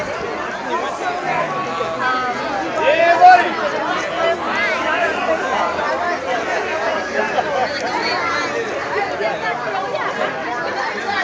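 Dense crowd chatter fills the air at an outdoor March Against Monsanto rally in Rhode Island, a steady babble of many voices close around, with nearby people talking over it.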